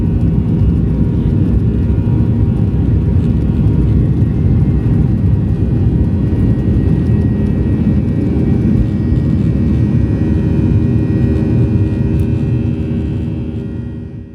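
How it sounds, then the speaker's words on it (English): An airplane climbs in flight, heard from inside the cabin as a loud, steady low roar of engines and airflow that holds for the whole stretch, easing slightly at the very end. "the feeling of a plane going high is so cool"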